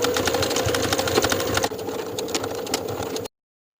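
A sewing machine edge stitches the bottom edges of belt loops on a denim skirt, running in one steady whirring burst that briefly drops in level partway through before stopping abruptly.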